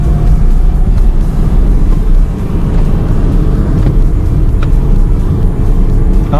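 Car cruising along a highway, a steady loud rumble of engine and tyre noise that holds constant throughout, with no speech over it.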